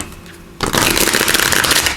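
A deck of True Heart Intuitive Tarot cards is riffled and shuffled up close, with a loud continuous burst of card flutter starting after a brief quiet moment and no voices.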